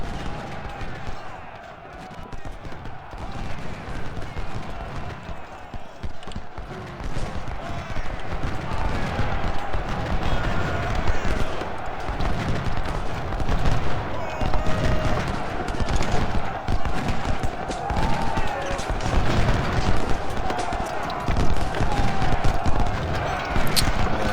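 Rapid, continuous gunfire in a Union Legendary video game match, dense bursts of shots rattling throughout over a busy background of game sounds.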